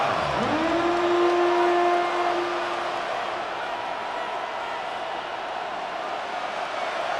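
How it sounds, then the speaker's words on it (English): A steady wall of crowd roar fills Arrowhead Stadium during a Chiefs versus Eagles game in Madden, loudest at first and then settling into a constant wash of noise with a brief tonal whistle near the start. "The crowd at Arrowhead roaring."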